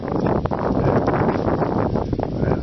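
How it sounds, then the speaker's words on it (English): Steady wind buffets the microphone outdoors on a hilltop during a hike, a continuous broadband rush with gusty fluctuations and no voices. "The wind's coming up a little bit. Got a bit of a breeze."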